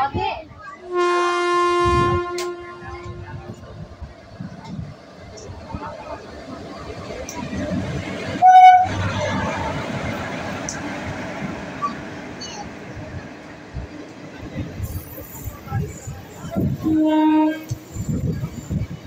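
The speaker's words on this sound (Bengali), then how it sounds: "ওই দিক দিয়ে হয়তো কোনো ট্রেন আসবে," A passenger train on an Indian railway line near Katwa, West Bengal, rumbling past with horn blasts, a loud honk near the start and more toward the end, while people talk throughout.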